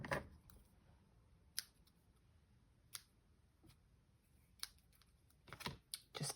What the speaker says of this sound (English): So let me just snip a little bit of this.